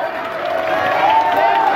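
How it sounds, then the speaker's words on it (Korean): Outdoor political rally crowd in Daegu on a hot day, applauding and cheering as a party floor leader is introduced; a dense, steady wash of clapping and voices with a shouted tone rising near the end. "큰 박수 한번 주십시오."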